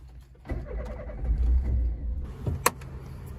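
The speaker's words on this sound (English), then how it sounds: "start the powerful engine" A Citroen BX engine cranks and catches, rumbling low and unsteady, followed by a sharp click near the end.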